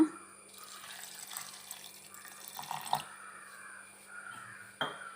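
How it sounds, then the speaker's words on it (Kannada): Water trickles and splashes into a mixer jar of parboiled rice before grinding, a faint close pour with a few louder knocks, and a crow caws in the background. "ಸ್ವಲ್ಪ ನೀರು ಹಾಕ್ಕೊಳ್ಳೋಣ."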